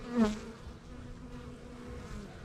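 A honey bee hive feeding on sugar produces a close, steady buzzing hum, with one louder bee swelling briefly near the start before the drone settles into a continuous low background.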